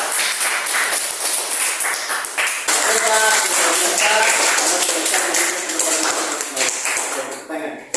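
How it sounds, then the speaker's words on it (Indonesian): Classroom clapping for a student after a group presentation, a dense patter of hand claps from pupils that is loud and sustained, with voices mixed in. "Tepuk tangan untuk dia."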